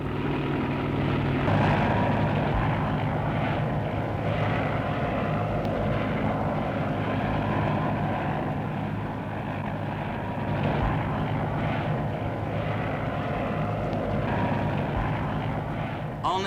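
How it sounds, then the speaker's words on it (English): A 1960s taxi helicopter at Battersea heliport beside the River Thames gives a steady, loud whir of rotor and engine that holds throughout, with faint talk beneath it. "In London, you can arrange for a taxi helicopter to be waiting for you at the Battersea heliport by the River"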